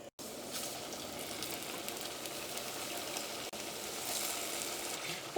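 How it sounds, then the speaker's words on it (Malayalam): Chicken spring rolls frying in hot oil, giving a steady, close sizzle with dense crackling that holds for several seconds after a brief quiet start. "ഇപ്പോൾ ഇത് ഫ്രൈ ചെയ്തെടുക്കാനുള്ള എണ്ണ നന്നായിട്ട് ചൂടായിട്ടുണ്ട്."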